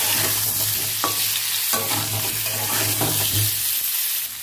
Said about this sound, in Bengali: এবার ওই তেলের মধ্যে সেদ্ধ করা আলু দিয়ে দেবো, এবং ভালো করে একটু ভেজে নেবো।